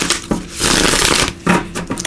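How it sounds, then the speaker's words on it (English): A deck of tarot cards being shuffled by hand nearby: loud riffling bursts and papery slides in quick succession with brief pauses between them, and no talking. "Just give these a good shuffle, get this energy activated."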